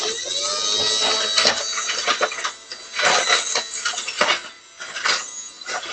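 A Dyson Casdon toy vacuum cleaner runs with a close, loud whirring and rattling buzz that surges and dips unevenly over several seconds, sounding grinding and scratchy.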